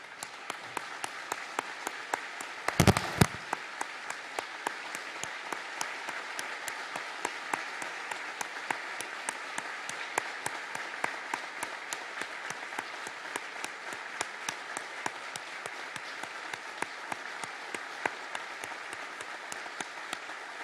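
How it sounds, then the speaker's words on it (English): Sustained crowd applause fills a hall at a ceremony of remembrance and reflection, many hands clapping steadily at moderate distance, with one sharp louder knock early on. "collectively stand and cheer and a round of applause for our"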